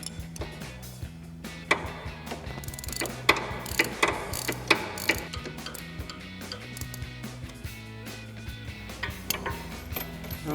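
Ratchet backing a nut off a sway bar end link on a 2011-2019 rear-wheel-drive Dodge Charger front suspension: a long run of fast mechanical clicking with several sharper ticks, close and alone.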